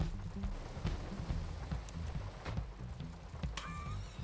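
Steady rain patters all around inside an off-road vehicle with open, broken windows in GTA 5, with scattered louder drops and thumps and a faint whine near the end.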